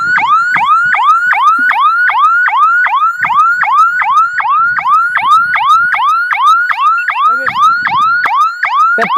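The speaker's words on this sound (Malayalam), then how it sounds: "ഇതിന്റെ ഈ ഒരു സൈറൻ അടിച്ചുകൊണ്ടിരിക്കുന്നത്" A loud electronic flood warning siren wails in fast, repeating rising sweeps, cycling steadily and without pause throughout.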